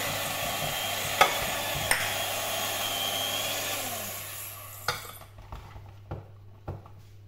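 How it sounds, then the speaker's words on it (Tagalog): Flour and baking powder get stirred together in a bowl, a soft dry brushing swirl with a few utensil taps before it quiets into scattered clinks near the end. "Haluin muna natin ng ganito para hindi aalsa, hindi maglilipad yung baking powder."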